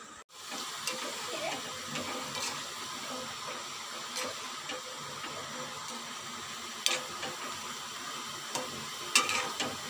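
Spicy pakoras fry in hot oil, a quiet, steady sizzle with occasional sharp crackles and pops, heard alone without talk.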